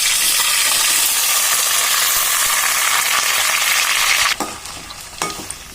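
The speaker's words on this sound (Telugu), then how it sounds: "ఇప్పుడు మనం నానబెట్టుకున్న పన్నీర్ ముక్కల్ని ఇందులో వేసి వేయించుకుందాం" Soaked paneer pieces hit hot oil with a loud, dense sizzle that dominates at first, then fades abruptly near the end, with a few scraping stirs.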